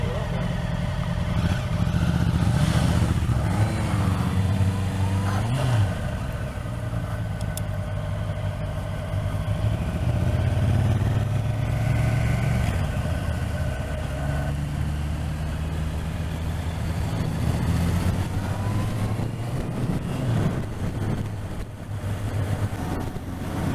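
Honda motorcycles, a 2019 CB650F and a 2019 Africa Twin, run nearby with a steady engine drone that shifts in pitch as the throttle changes, with wind noise and occasional voices.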